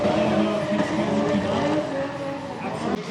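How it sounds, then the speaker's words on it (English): Cars drift at a street car show in Melbourne, with continuous roaring engines and tire squeal carrying across the crowd, loud and sustained throughout. "Got the drifting going on over here."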